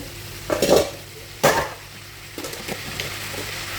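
Broccoli and mixed vegetables are stirred in a frying pan, with two loud scraping bursts and softer stirring afterward over a low sizzle.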